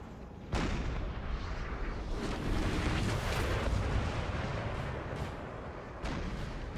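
Cannon artillery fires in the Napoleon Total War video game, heard as a dense, continuous barrage of booming blasts with sharp reports standing out, loud and sustained throughout.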